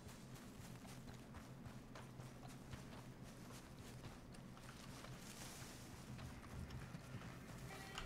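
Horse hooves clip-clop in Red Dead Redemption 2 as a faint, steady run of soft beats under low ambient rumble and wind, with no talk.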